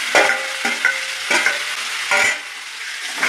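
Taro being stirred as it fries in a pan for a Bengali hilsa-head curry, a spoon scraping in several distinct strokes over a continuous close sizzle.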